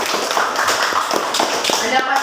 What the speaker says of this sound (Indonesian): Ya, tepuk tangan untuk Erinda.